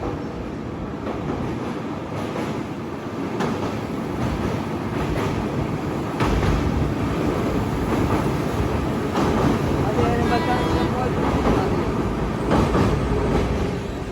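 An express train runs past on the rail track beside flood water in India, a steady loud rumble with faint clickety-clack building toward the end, while someone talks briefly over it.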